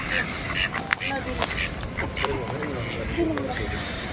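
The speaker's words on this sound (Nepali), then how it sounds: "यहाँ चाहिँ हाँसहरू छ" Ducks quack intermittently at an outdoor spot, a few scattered calls at moderate distance, mixed in with steady background voices of people talking nearby.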